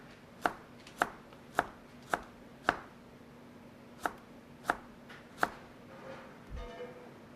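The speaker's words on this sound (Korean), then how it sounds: "깨끗한 그 채소 식품 위주로 해서 채를 썰어 보도록 하겠습니다" A knife julienning clean vegetables on a cutting board gives a run of sharp, distinct chops in a fairly steady rhythm, close and isolated, with a brief pause midway and faint handling sounds at the end.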